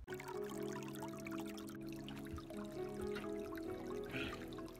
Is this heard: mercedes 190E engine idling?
no